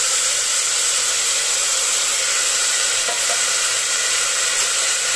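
Soaked chickpeas sizzle loudly in a hot pan, a steady dense frying hiss that fills the whole stretch, close and unbroken.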